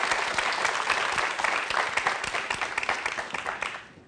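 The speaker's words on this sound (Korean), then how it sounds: "여러분 박수를 청해 듣도록 하겠습니다." An audience at a lecture bursts into steady applause, dense clapping from a sizable crowd that holds for several seconds before tapering off at the end.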